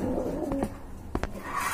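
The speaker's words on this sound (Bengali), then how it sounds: "দেখতে পাচ্ছেন একজোড়া আফসান গ্রিজেল কবুতর" A pair of big Afsan grizzle pigeons coos softly nearby in a bird sale setting, a few low repeated coos with short chirps in between and no talking.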